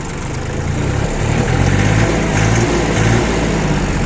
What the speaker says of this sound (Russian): обороты трактор набирает отлично. При этом никаких проблем с выхлопом и работой двигателя вообще не испытывает